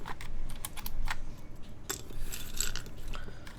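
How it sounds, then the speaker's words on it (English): Keycaps are pried off a Blue Ridge mechanical keyboard, producing a quick run of sharp plastic clicks and snaps, close and fairly loud, spaced unevenly over a few seconds. "So I'm just gonna go ahead and take off the keycaps."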